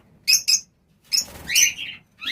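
An adult breeding lot of lovebirds, held at home in Udaipur, gives out bright, shrill chirps in quick clusters, with a rustle of flapping in the middle, close and loud against a quiet background.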